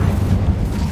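A fire spell from Hogwarts Legacy goes off as a short, heavy whooshing burst of flame, loud and low, filling the moment without any voice over it.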